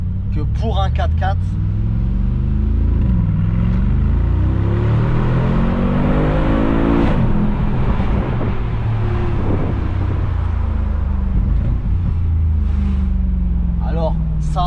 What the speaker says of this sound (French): Le bruit du Classe G, c'est vraiment quelque chose